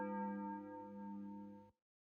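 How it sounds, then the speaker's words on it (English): A school bell in the visual novel Dies Irae rings out for the end of lunch break, a single sustained, resonant tone with rich overtones that holds steadily and then cuts off abruptly. "Bell signifying the end of lunch break rang shortly afterwards."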